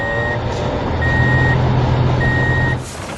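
A big animated truck reverses with a loud, close, repeating beep over a steady engine rumble, among construction machines in a green farm field, and a brief hiss of air brakes comes near the end.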